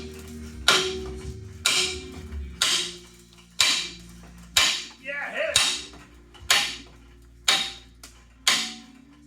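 A hammer strikes a Dana 60 front axle part in sharp, ringing blows, about ten evenly spaced hits, each clang decaying quickly, with a brief metallic squeak midway.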